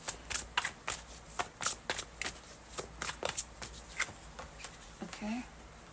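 Tarot playing cards shuffled by hand in quick, crisp riffling bursts, close and clear, with soft speech faintly audible near the end.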